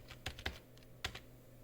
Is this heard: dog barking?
no